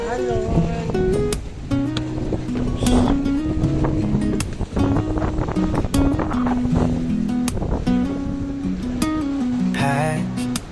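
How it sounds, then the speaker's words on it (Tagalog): Strong sea waves rolling and crashing near a boat off Boracay, a continuous loud wash mixed with wind buffeting the microphone, while music plays over it throughout. "Malakas ang alon."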